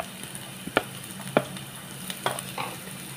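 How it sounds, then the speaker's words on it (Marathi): Chopped onion is stirred in a hot pan, with several scraping spatula strokes breaking over a steady, soft sizzle of frying. "कांदा थोडासा हलवून घ्यायचा."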